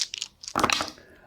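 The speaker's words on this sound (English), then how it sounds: "she can roll again her 6 dice" Six dice rolled in an Axis and Allies board game, light clicks first, then a sharp clattering tumble and rattle that settles quickly.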